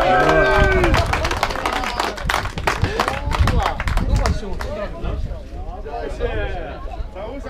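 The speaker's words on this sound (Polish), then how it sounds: "Wielkie brawa!" At a motocross picnic award ceremony, scattered outdoor clapping from a crowd mixes with lively chatter and voices close by, uneven and fairly loud.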